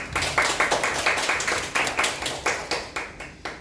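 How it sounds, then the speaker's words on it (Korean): An audience at a book talk claps in a brisk, even rhythm, a modest crowd applauding together for a few seconds at moderate volume, with no voices. "박수로 인사드려볼까요?"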